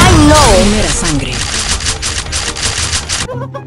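Rapid gunfire bursts in a shooting video game, dense clattering shots over upbeat game music, with a voice talking loudly at the start and the sound cutting off near the end.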